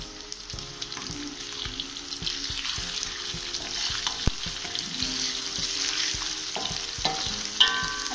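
Ginger sizzles and fries steadily in oil over low heat, a continuous crackling hiss with occasional stirring clinks and scrapes, close and unbroken by any voice.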